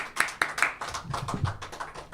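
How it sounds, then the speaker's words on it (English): Audience applause after a flash talk, a spread of hand claps with a few sharp near claps at the start settling into a steady patter, without speech. "So another round of applause for our lovely alumni."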